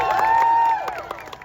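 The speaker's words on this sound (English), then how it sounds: "A nice round of applause for our war horses this day." A crowd at a medieval faire in Toronto cheers and applauds for the war horses, with loud sustained shouts and whoops that fade into scattered claps and calls.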